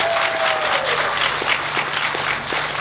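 An audience applauds a guest at an outdoor event, with steady, dense clapping from many hands at an even level throughout and a faint tone fading out early on.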